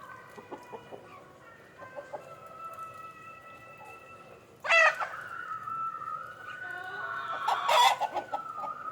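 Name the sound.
country chickens clucking as coop is opened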